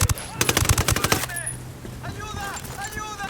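Rapid bursts of automatic gunfire in Ghost Recon Wildlands crackle loud and close for about a second, then give way to fainter game sounds and voices.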